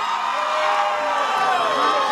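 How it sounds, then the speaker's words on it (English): A dating show audience cheers and whoops together over a contestant's elimination, a loud, steady crowd roar with excited high shouts running through the whole stretch. "You guys are cheering"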